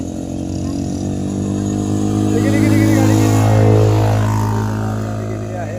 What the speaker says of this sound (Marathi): गाडी कशी गेलेली आहे तिकडे.